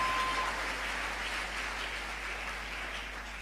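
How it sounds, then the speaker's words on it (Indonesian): A church congregation claps during an Indonesian sermon, a dense, steady patter of many hands that fills the room and tapers off slowly toward the end. "Saudaraku, tepuk tangan saudaraku."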